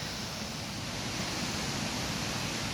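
Steady, dense rushing water fills the clip, a constant broadband roar from nearby Rutledge Falls in Manchester, Tennessee, with no pauses.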